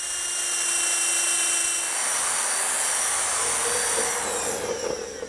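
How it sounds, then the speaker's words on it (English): A power drill bores a hole in a steel roll pan on a 1966 Ford truck bed, a loud high whine that holds steady and then winds down. "we can mark it and drill out the hole."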